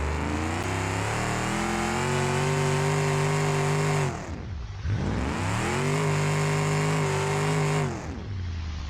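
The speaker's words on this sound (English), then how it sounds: "Well, let's warm up the tires," Bruckell Bastion twin-turbo car in a video game revving hard, engine pitch climbing steadily, dropping sharply, then climbing again in two long loud sweeps with no talk.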